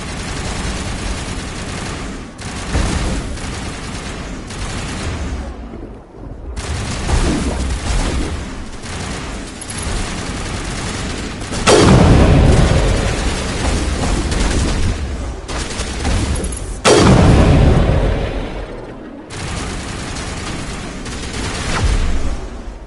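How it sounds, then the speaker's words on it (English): Long-range turrets pound away in Mass Effect during a Geth outpost assault, heavy booming volleys and machine-gun-like bursts loud and near, several big blasts standing out over continuous battle noise. "Long-range turrets helping the Geth target."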